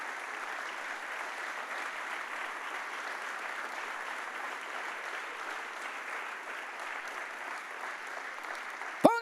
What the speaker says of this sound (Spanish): ¿Por qué no le dan un fuerte aplauso a Jesús entonces por esto?